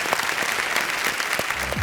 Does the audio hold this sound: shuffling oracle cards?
no